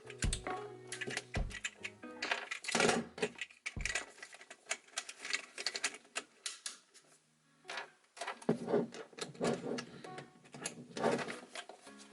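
A sewing machine joining fabric pieces into a strap for a winter dress, running in quick irregular mechanical bursts with short pauses, close and fairly soft.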